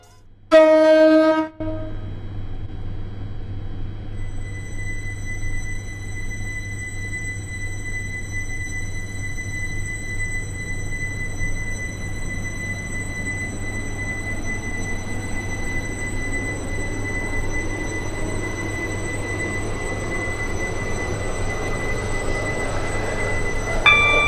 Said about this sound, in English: I'll just play the audio of the train accelerating, plus the horn